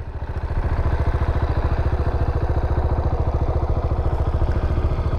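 A single-cylinder motorcycle engine idles steadily up close, its loud rapid pulsing thump carrying a mechanical tappet ticking throughout.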